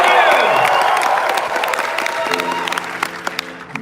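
An audience at a Knott's Scary Farm announcement event bursts into loud applause and cheering for improv performers, the roar fading into scattered claps with a voice speaking over the tail.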